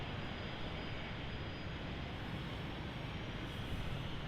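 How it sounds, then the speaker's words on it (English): An Embraer E190 jet airliner arrives at Brisbane Airport with a steady, distant, fairly faint engine roar and rumble, and nobody speaks. "Embraer E190AR coming in from Canberra"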